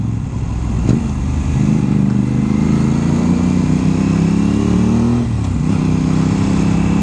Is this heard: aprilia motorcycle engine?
yes